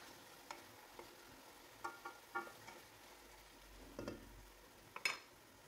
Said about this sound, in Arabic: ضفت لهم الطماطم المحكوكة، وراح نخليها هي أيضا تتقلى معاهم